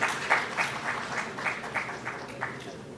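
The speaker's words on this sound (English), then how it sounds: "A round of applause, please, for our esteemed panelists" An audience at a company's 25th anniversary celebration claps for the panelists, giving a light, fairly sparse round of applause with distinct claps that peak and fade in waves.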